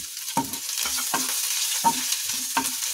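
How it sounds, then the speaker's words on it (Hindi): Cumin seeds, dried curry leaves and ginger dropped into a hot pan, giving a continuous sizzle broken by several short stirring scrapes, close and steady with no talk. "अब मैं इसमें ये 1/4 चम्मच जीरा डालूंगी, साथ ही ये सूखे कड़ी पत्ते डाल दूंगी मैं इसमें"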